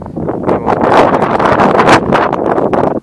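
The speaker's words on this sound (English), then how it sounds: "hopefully the wind isn't too terrible. It's pretty bad" Strong gusts of wind buffet the microphone across a farm field overgrown with jagger bushes, a loud, rumbling roar that swells and surges throughout.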